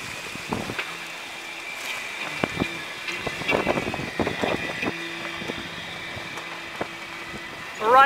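A Jeanneau 39i sailboat under trimmed sails at about nine knots off Point Loma: a steady rush of wind and water along the hull, with scattered creaks and knocks and brief talk in places.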